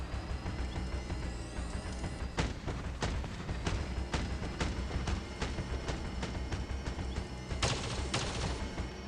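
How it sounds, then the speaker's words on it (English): Rapid autocannon gunfire in the mobile vehicle-combat game Crossout Mobile, loud sharp bursts of repeated shots layered over a constant engine and battle rumble, with a dense volley near the end. "He's got the new autocannon."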